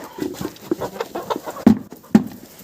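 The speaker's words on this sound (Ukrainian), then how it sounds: "Дивись, ця курка постійно тут." A hen with a lame leg wandering around a farmyard garden, giving soft, scattered clucks with two sharper, louder clucks near the end, fairly close by.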